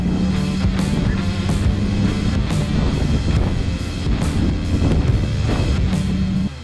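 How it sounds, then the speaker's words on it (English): Steady wind buffeting a microphone on Oatman Road, a continuous low rumbling roar with gusty swells throughout and no talking. "it was definitely a bit windy"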